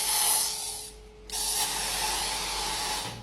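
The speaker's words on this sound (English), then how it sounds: "she's spraying like bug spray" An aerosol can of bug spray hisses in two bursts, a short spray then a brief pause and a longer continuous spray, loud and close with no talking.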